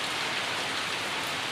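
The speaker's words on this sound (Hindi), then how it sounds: "इतना झमाझम बारिश हो रही है ना" Heavy monsoon-style rain pours steadily, a dense, even hiss of drops on surfaces with no pauses and no voices.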